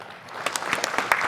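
Scattered clapping from a business breakfast meeting audience welcoming a speaker on stage: a handful of distinct, sharp claps on top of a soft crowd wash, fairly close.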